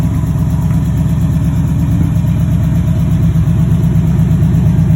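A 1941 Chevy 3100 shortbed rat rod shop truck with a V8, new rear exhaust and aluminum radiator fan, idles steadily with a deep, loud, even low rumble, close by and without voices.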